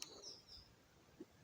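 A ground dove calling in a rural lane with trees, a few faint brief notes heard at a distance in otherwise quiet surroundings.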